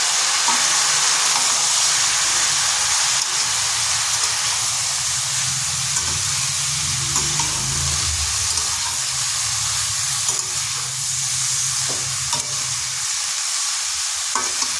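Chopped bottle gourd frying in a pan as it is stirred into spices for a vegetarian lau dish: a steady bright sizzle and hiss with repeated scraping stirs, close and continuous.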